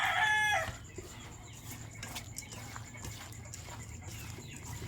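Chickens kept as backyard fowl cluck in short bursts, with a loud rooster crow at the start fading into scattered pecking and clucking nearby.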